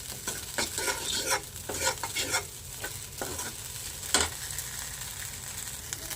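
Soybean chunks roast in sizzling oil while a utensil stirs them, making quick scraping strokes and clinks over a soft frying crackle, close up and with no one talking.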